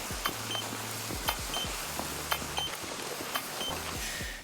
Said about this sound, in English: when you get spotted by the throwable motion sensor, then you will hear this double beeping